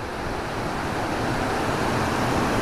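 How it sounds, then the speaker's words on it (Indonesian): Munduk waterfall's rushing water roars as a dense, continuous broadband wash, loud and steady at close range, with no voices. "ini adalah sisi bawahnya teman-teman dari air terjun Munuknya"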